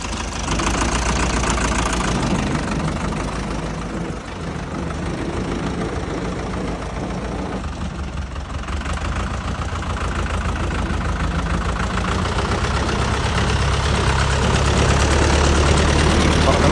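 A 5911 tractor fitted with a loader idles with a steady low rumble and rapid knocking rhythm, continuous and close for the whole stretch, with a slight rise toward the end.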